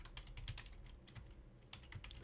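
Computer keyboard typing a command during a Linux penetration-testing lab, with quick irregular keystrokes clattering quietly and steadily with no talk.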